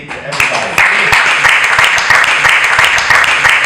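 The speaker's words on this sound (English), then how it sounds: "give your hands a big round of applause" A crowd applauding university boxers, a dense, loud wash of clapping with close, sharp individual claps cutting through, rising early and then staying steady throughout.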